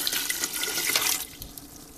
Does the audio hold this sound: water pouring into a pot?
yes